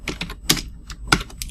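Someone types on a computer keyboard, with a short burst of several crisp key clicks and a couple of louder strokes, close and clear with no voices.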